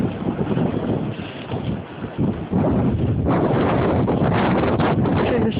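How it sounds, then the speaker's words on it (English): Strong blizzard wind roaring continuously across an outdoor microphone, a loud, broad buffeting rush that swells and gusts throughout. "You can hear the wind."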